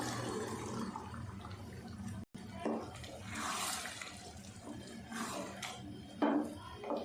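Chickpeas tipped into a cooking pot of masala for Lahori dhaba-style anda chana, giving close, wet splashing and sizzling bursts, with a couple of sharper clatters near the end.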